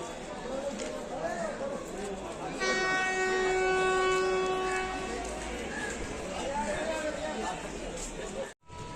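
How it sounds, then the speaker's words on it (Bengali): A train pulls into Sainthia railway station in India, its rumbling wagons and clatter filling the platform and a sustained horn blaring for a couple of seconds midway, with station bustle around. "এই মুহূর্তে আমাদের ট্রেন চলে এসছে"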